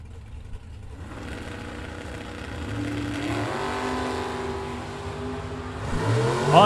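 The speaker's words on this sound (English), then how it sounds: "Another good race off the starting line and at the finish line." Drag race cars at a bracket racing event roar off the starting line, engines climbing steadily in pitch as they accelerate away, heard at a distance over a broad crowd-and-track rumble.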